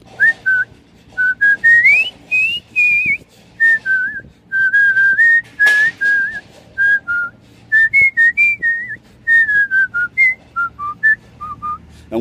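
A person whistles a lilting melody in short, clear phrases with brief pauses between them, close and loud.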